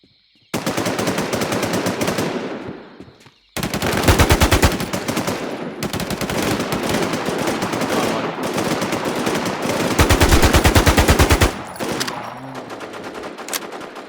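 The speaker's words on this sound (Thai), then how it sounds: "บอลยิงนี่นะ" Gunfire in the battle royale game NewZ: loud, sustained automatic bursts filling most of the clip, with a brief pause near the start, rapid repeated shots and no talking.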